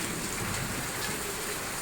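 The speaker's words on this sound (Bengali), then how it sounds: "এই বৃষ্টি দেখ, মেঘ ডাকছে, বৃষ্টি পড়ছে দেখ।" Steady rain pours down in a thick, unbroken hiss during a storm with rumbling clouds, loud and close throughout with no voices.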